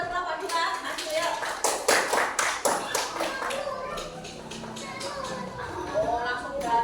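Primary school classroom clapping for a student group, a burst of uneven hand claps from the children that fades within a few seconds, with chatter and children's voices continuing underneath and afterward.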